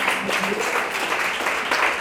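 A church congregation applauds during a Sunday service, a busy, even wash of many hands clapping at close range that continues through the whole short stretch.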